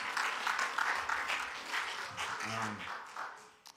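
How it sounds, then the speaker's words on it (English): A church congregation claps steadily and fairly loudly throughout for the pastor, a continuous wash of applause that fades slightly at the end. "can we give Pastor Jason a round of applause for the past couple of weeks"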